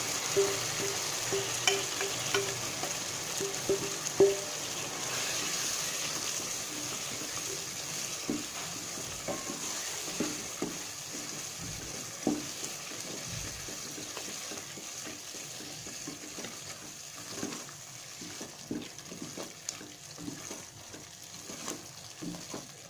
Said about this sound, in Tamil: இப்போ சிக்கன் போடுறேன்.